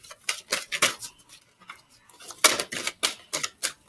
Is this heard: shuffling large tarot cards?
yes